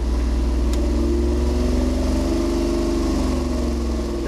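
A 502 big block engine on a dyno running 87 octane fuel, a loud steady drone with a slowly shifting pitch as it revs, close and alone with no talk.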